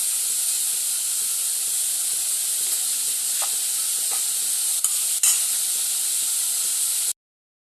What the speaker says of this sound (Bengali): চিংড়ি মাছটা কিন্তু ভাজা হয়ে গেছে, এবার আমি তুলে নেব